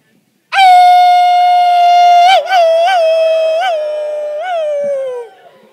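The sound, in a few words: audience howling together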